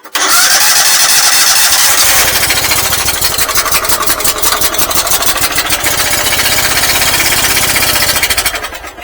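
An engine with the choke on cranks and starts on a GOOLOO GTX280 jump boost pack, then runs with a loud, rapid, steady chugging that fades at the end.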